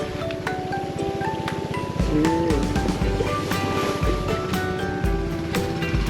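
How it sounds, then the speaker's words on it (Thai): A petrol-engine water pump of the dragon-head type pumps water into a dry rice field, giving a loud, steady engine drone with a rushing water wash that continues throughout with no talking. "อันนี้เป็นเครื่องสูบน้ำเขาเรียกว่า เครื่องหัวพญานาคนะครับ"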